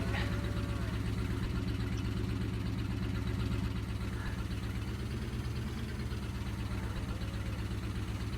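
A small tractor engine in Farming Simulator 22 runs steadily throughout, a continuous low mechanical drone with an even, unbroken rumble close by, and a voice talking over it at times.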